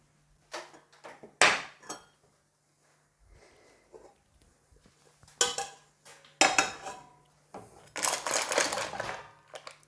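Cooked mussels being moved out of a pot with a utensil, giving several sharp metallic clatters and shell rattles in irregular bursts separated by quiet pauses, close and fairly loud.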